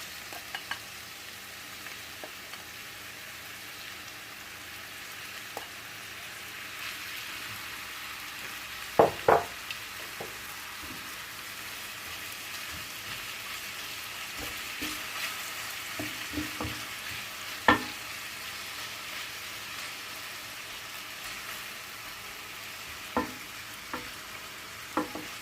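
Pieces of veal brown in olive oil in a pan, giving a soft, steady sizzle with a few sharp clinks and stirring sounds scattered throughout.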